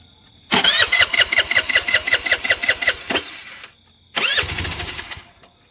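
Honda Activa scooter that is struggling to start: about three seconds of rhythmic electric-starter cranking, a pause, then a second shorter cranking attempt, close and loud, no talking.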